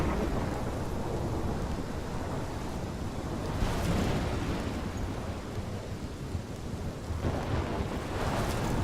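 Steady, dense roar of a heavy thunderstorm in the video game Life Is Strange, with pouring rain and wind filling the whole stretch and swelling surges of thunder rolling through.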